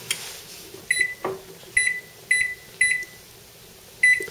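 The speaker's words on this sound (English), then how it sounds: "So I'm going to set my timer here for 5 minutes" A kitchen timer or microwave panel is set for five minutes with a series of short, sharp electronic beeps, five in all at irregular intervals, over a low hum with no talk.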